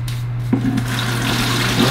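Water pours into a container to mix with a few teaspoons of powder, a steady close splashing fill with a faint liquid gurgle and no speech.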